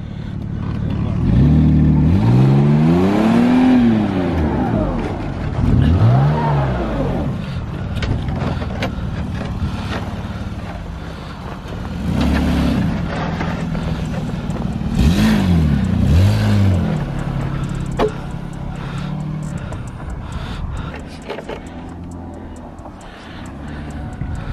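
Mazda car pulling out and driving off, its engine loud and close with rising and falling revs and swooping tonal sweeps, the sound staying strong throughout with no talk.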